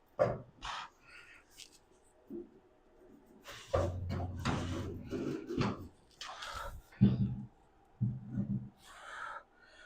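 A heavy 1929 Chevrolet Coupe door being fitted with suicide-door hinges clunks and knocks in a series of close, irregular thumps and metallic bumps, with short pauses between handling sounds.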